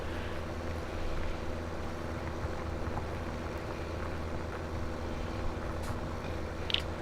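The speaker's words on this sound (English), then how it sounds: "The tractor's still way loud" A tractor engine in Farming Simulator 17 drones at a steady low hum throughout, fairly faint and unchanging, with no voice over it.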